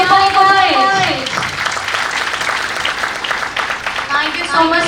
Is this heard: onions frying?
no